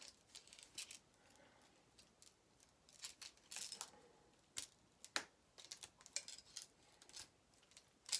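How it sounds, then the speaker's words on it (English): Scissors snip through ornament material at close range, a series of sharp, irregular cuts with short pauses between them, heard alone with no talking. "I'm going to just ruin my scissors and cut off a part of this."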